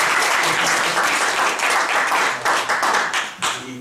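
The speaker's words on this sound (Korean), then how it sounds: "박수가 길어야 좋습니다. 세게 길게 줘." Sustained, loud applause fills a lecture hall as an academic society president is introduced before a special talk, thick and continuous, thinning slightly toward the end.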